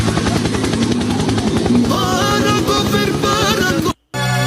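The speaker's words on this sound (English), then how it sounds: "Helicopter." A loud, close helicopter with steady rapid rotor chop and a whining engine hum fills the scene, ending in a brief cut to silence and a different tone.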